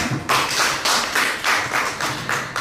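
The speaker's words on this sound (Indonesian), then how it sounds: "Tepuk tangan untuk kita semua." Applause from the audience at an SMK Negeri 3 Sukoharjo school gathering, a short burst of close, loud clapping rising in pulsing waves.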